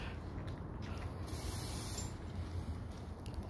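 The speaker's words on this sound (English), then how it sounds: "We'll spray more on it" WD-40 aerosol can spraying, a continuous fairly quiet hiss with a brief brighter burst midway, heard alone without talk.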